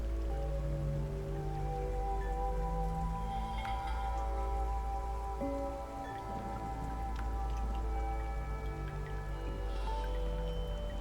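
Steady rain falls in the video game Atuel, a dense wash of drops and splashes that runs continuously over a low rumble and soft tonal music, with no talk.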